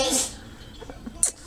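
One quick sneeze, sharp and close, comes amid a child's chatter and other brief vocal sounds.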